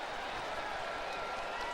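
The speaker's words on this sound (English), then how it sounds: "Cub fans on their feet applauding Chris Bryant, the USD product." Cubs fans at a ballpark applauding a home run, a sustained, even roar of clapping and cheering from a large crowd in the distance, heard briefly under commentary.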